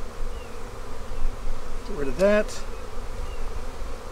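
Honey bees buzz loudly and steadily around an opened hive during a spring inspection, with one droning close by in a brief rising pass, while a person speaks briefly over the hum.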